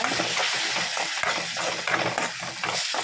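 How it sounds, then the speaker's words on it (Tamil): Steady, loud sizzling of tomato paste sautéing in oil, with faint scraping and stirring throughout; no voices. "சேர்த்து எண்ணெயில் நல்லா வதக்கிக்கோங்க."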